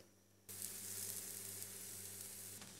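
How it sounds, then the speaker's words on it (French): Samosa pastry dough lands on a hot tawa and breaks into a sudden, steady close-up sizzle that starts after a brief low hum and keeps going evenly to the end, with no voices. "mets cuire sur un tawa pendant 2 minutes"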